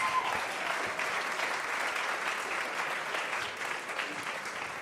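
Audience applause at a school playback show in a hall, a continuous, even roar of many hands clapping that stays at a steady level.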